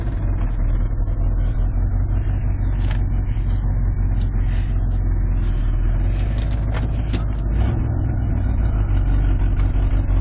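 A truck engine runs loudly and steadily after a cold start with its wheels spinning while the hubs fail to lock, a continuous low rumble with slight fluctuations and no talking.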